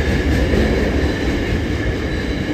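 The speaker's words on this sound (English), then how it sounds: "we have NR17 leading a freight train through platform one" A loud, continuous rumble of a freight train led by locomotive NR17 rolling through a station platform close by at Maitland, NSW, steady throughout with a low roar and faint rail noise.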